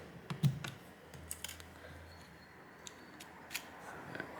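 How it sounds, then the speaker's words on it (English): A Samsung Galaxy A17 5G phone has its SIM tray removed during charger port repair work, producing faint, scattered small clicks and ticks close by in a quiet room. "Now we'll also take out the SIM tray"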